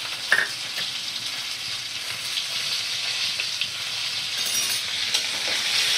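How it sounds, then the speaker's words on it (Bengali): Ginger and cumin paste fries in a pan while it is stirred, giving a steady, fairly loud sizzle with a brief clink near the start and soft scraping throughout. "দেখো আদা জিরে বাটা আমি ভালো করে নাড়াচাড়া করে মিক্স করে নিচ্ছি।"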